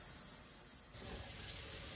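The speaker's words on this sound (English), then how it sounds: "I'm just doing my final rinse on these cases" Water runs and splashes steadily as rifle brass cases fresh from an ultrasonic cleaner get a final rinse, the flow growing fuller and louder partway through.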